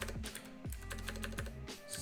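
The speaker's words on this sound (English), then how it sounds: "typing" Quiet, irregular keystrokes on a computer keyboard tap in quick bursts of clicks with short pauses between them.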